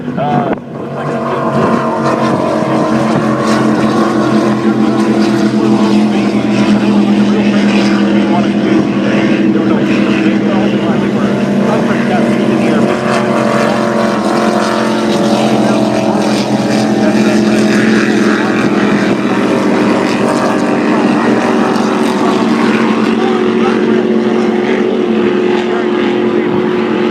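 Racing powerboats, including a 30-foot Skater catamaran, roar past at the Key West powerboat races with a loud, sustained engine drone and wind buffeting that stays dense for the whole stretch, with commentary talk mixed underneath.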